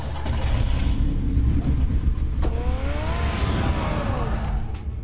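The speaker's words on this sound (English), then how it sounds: "Get the car ready, Alfred." A car engine in the Batman Telltale video game hums and rumbles low and steadily, with a whoosh and a rising revving whine partway through, loud and close.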